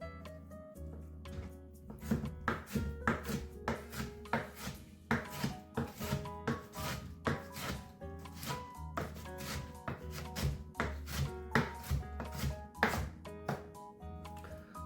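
A knife chops kimchi finely on a board for kimchi fried rice: quick, steady, rhythmic thuds for the whole stretch, heard over a tonal musical backdrop.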